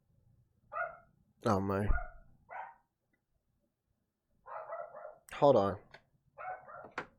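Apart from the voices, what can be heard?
dog barking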